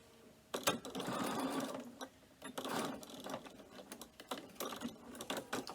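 Sewing machine stitching across a cork strap holding D-rings, running in several short close bursts with brief pauses and clicks between them.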